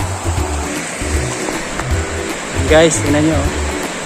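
Water rushes steadily at Lawang dam, a broad continuous wash under a voice speaking briefly, with a low hum running beneath.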